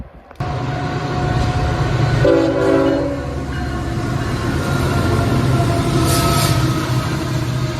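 Freight train led by a Tier 4 GE ACE locomotive passing on the Pittsburgh line, its loud steady engine roar and rumbling cars close by, with a short horn blast partway through.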